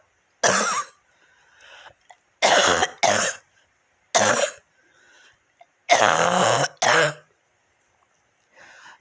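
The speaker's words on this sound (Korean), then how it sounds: "새벽에 하던 기침 소리가 여전한 걸 보니까" Several harsh coughs in short bursts, some in quick pairs, close and loud with silent gaps between them.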